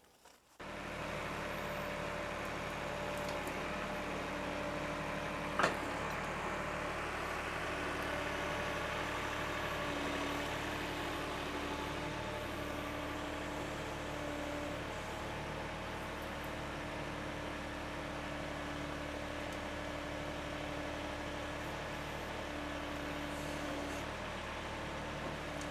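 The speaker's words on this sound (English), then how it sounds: "Heath's gonna use his backhoe, dig them out." A backhoe engine runs steadily at a low, even rumble while digging out large buried stones in a homestead flower garden, with one brief sharp knock partway through.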